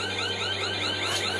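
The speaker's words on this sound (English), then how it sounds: "Is that your alarm?" An electronic alarm goes off, sounding a steady series of rapid, repeating rising tones over a constant low hum, with no voices.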